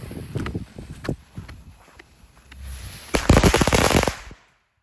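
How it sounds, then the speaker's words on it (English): A 50 strip of Black Cat firecrackers pops off in rapid sharp bangs, scattered at first, then a dense fast crackling burst before it stops. "that's it for firecrackers from the Black Cat assortment"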